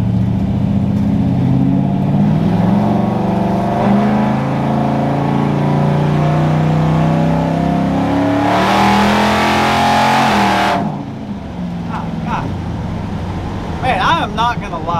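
A 392 Hemi-swapped 1966 Ford truck with a 46RE transmission revs hard and roars through a trans brake launch, its pitch climbing, then cuts off near the end, leaving quieter rumble and brief voices.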